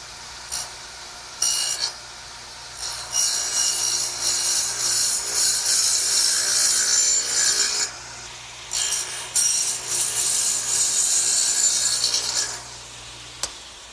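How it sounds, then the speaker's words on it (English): Sawing across a wooden workbench leg to cut a dado for a shelf: long bursts of rough, rasping hand-saw strokes close up, pausing briefly around a third of the way in and again near the end. "now let's turn it over and dado out for the shelf"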